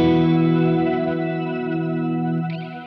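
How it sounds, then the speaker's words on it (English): Electric guitar played through an MXR reverb pedal with octave pitch shifting, a single sustained chord ringing out with shimmering, swirling modulation and a long reverb tail that slowly fades. "You can hear the reverb in there obviously as well."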